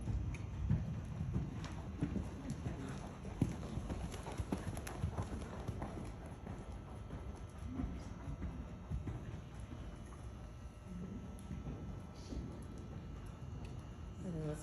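Steady clip-clop of horse hooves trotting, rhythmic and fairly close, with soft ambient noise and faint voices in the background.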